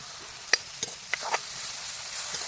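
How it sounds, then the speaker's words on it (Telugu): Sliced tomato dropped into a sizzling pan of tempering spices, with a few sharp clunks and stirs over a steady broadband frying hiss that continues after the additions. "ఇలా పోపు ఉగ్గానికి ఇలా వేగిన తర్వాత ఒక టమోటా సన్నగా కోసేసి ఇలా వేసేసుకోవాలి"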